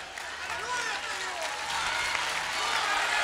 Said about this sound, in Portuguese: Bata palmas da glória.